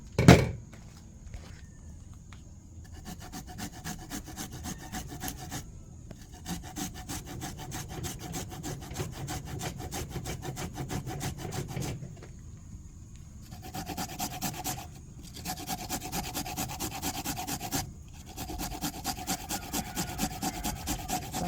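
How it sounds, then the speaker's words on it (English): Fresh ginger rubbed on a grater in fast, steady scraping strokes, a rhythmic rasp that continues in long bursts with brief pauses, close and moderately loud, with no talking. "Then we're gonna go ahead now and grate our ginger."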